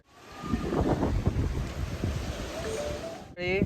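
Gusty wind blowing hard across the microphone in a loud, continuous roar that breaks off briefly near the end, at Mahadev Gad Point, Amboli.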